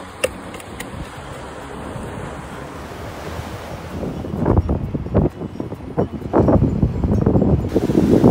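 Surf and waves wash ashore at a beach in Puerto Penasco, Mexico, with wind buffeting the microphone, building to louder, closer breaking waves in the second half.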